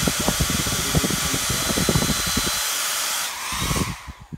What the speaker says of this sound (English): So this hairdryer will surely turn all these blades on the car